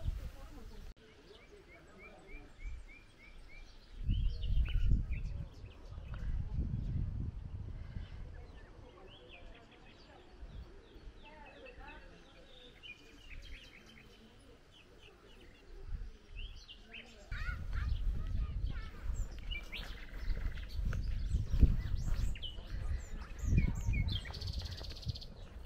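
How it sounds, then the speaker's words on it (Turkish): Birds chirp and call intermittently from nearby foliage in a Bulgarian village near Omurtag, Targovishte, with bursts of low rumbling noise and some voices in the background. "Şu yeşilliğin içinden tamamen kuş sesleri geliyor."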